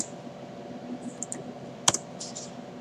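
SQL commands being typed on a computer keyboard in a quiet room, with sparse, light key clicks and one sharper keystroke near the middle, all heard close.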